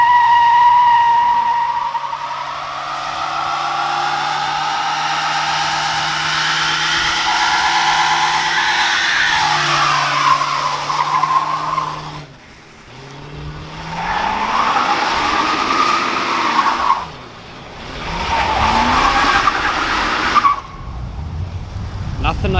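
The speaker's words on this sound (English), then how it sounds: "nothing like an open diff burnout" A race car with an open differential does a one-wheel burnout, its engine roaring steadily while a single tire squeals and skids for about twenty seconds, with brief dips as the revs drop before it howls again.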